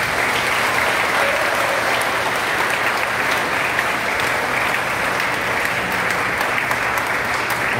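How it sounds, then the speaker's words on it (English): A church congregation applauds mothers at a Mother's Day blessing, steady sustained clapping from a large crowd throughout, loud and even with no talk. "Let us give our mothers a round of applause."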